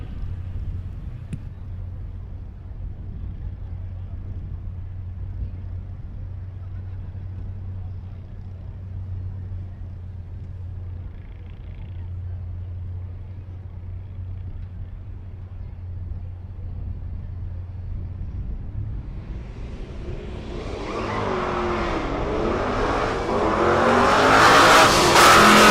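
A 1966 Mustang and other cars at a drag strip during race week, a low steady engine drone for most of the stretch, then a loud rising roar of cars launching and accelerating near the end.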